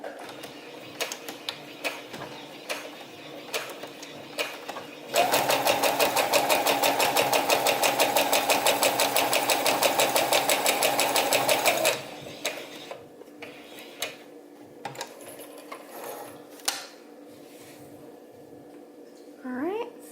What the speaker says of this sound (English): I'm going to sew that at about a 1/2 inch seam allowance, making sure to reverse at each end.